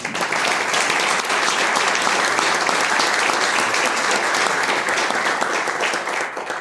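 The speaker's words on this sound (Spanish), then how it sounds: "y a ella les voy a pedir otro aplauso." Sustained audience applause fills an academy induction ceremony, steady and dense from start to finish with no talking over it.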